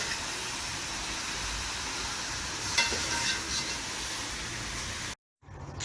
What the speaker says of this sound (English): Mix around the meat in the pot.